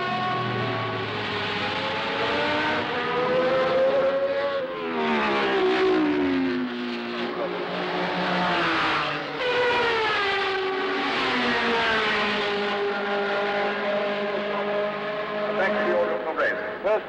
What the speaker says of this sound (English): always the incessant wail of the cars knifing through the merriment.